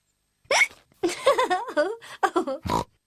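A cartoon character hiccups several times in quick, squeaky bursts, close and loud, with a brief voiced sound between them.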